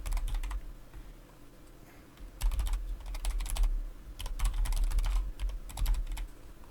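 Someone types a prompt on a computer keyboard in quick bursts of clicking keys with short pauses between them, close and steady against a low background hum.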